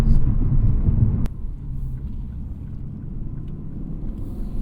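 A 2020 Lexus RC F Track Edition pulls hard under paddle-shifted acceleration, a loud engine roar cutting abruptly at a gearchange and dropping to a lower, quieter drone afterward, no voices heard.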